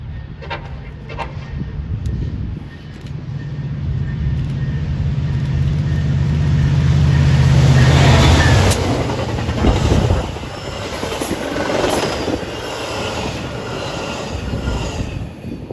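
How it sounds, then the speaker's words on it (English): Metra commuter train with locomotive 513 leading passes at Franklin Park, Illinois, a loud rising roar with a sustained horn-like tone, then rumbling wheels and clatter fading over the remaining seconds. "Our last train in Franklin Park would be MDW 2703, Metro 513 leading"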